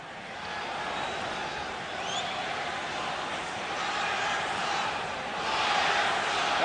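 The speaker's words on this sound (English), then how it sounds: "the partisan crowd here screaming for a penalty" A partisan hockey crowd at a 1983 NHL playoff game between the Edmonton Oilers and Chicago Blackhawks roars in a broad, distant wash of screaming and shouting that stays sustained and swells toward the end.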